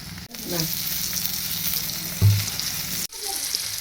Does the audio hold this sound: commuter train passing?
no